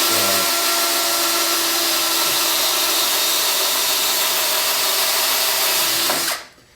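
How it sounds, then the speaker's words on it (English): A cordless hand drill whines at constant high speed, loud and close, boring holes into wood for several seconds before spinning down abruptly at the end. "I'm going to just simply drill all my holes. I got a cordless hand drill."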